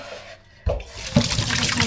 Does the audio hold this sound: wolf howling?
no